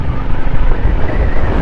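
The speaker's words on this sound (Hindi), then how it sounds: "हवाएं थोड़ी तेज़ चल रही हैं, बहुत तेज़ हवाएं चल रही हैं बल्कि।" Strong outdoor wind batters the microphone beside a road at the Karimabad underpass, producing a loud, continuous, rumbling roar with no pauses.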